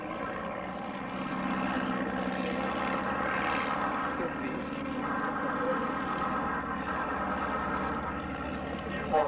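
Engine drone of a de Havilland Vampire jet aircraft in flight, a steady sustained roar holding at moderate loudness throughout, swelling slightly in the middle, with no voices over it.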